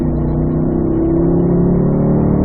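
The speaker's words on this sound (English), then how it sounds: "Unwind, accelerate to the left." Race car engine on a track, loud and close, holding a steady strained drone as it accelerates, with pitch rising gradually through the gear.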